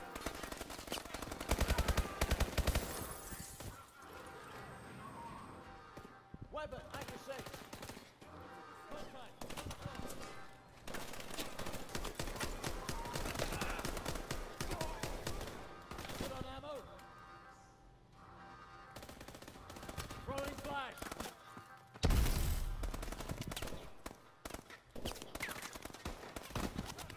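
Automatic gunfire from a video game gun, loud rapid bursts and sustained rattling volleys over about half a minute, mixed with music and game effects, with brief pauses between strings of shots.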